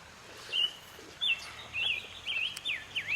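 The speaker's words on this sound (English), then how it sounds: "Listen to those birds, eh?" Birds chirping with a few clear, high-pitched calls and short whistled phrases in a quiet outdoor setting, spaced irregularly.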